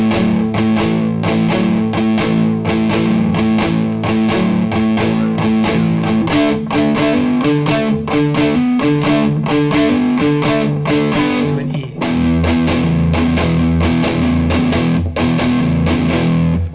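Distorted electric guitar plays the second part of a song's verse, loud and driving with evenly spaced strummed chord hits, shifting to a lower chord near the end.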